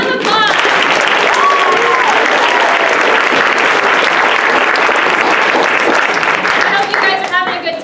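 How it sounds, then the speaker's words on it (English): Loud, sustained audience applause at a ten-minute play competition, a dense wash of clapping with a few cheers that tapers off near the end. "Can we get a round of applause?"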